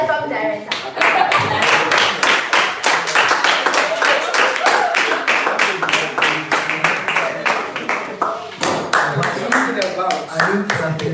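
Audience clapping hard at a leadership academy session, a dense, steady barrage of sharp handclaps that runs the whole time with only a brief dip in the middle, loud and close.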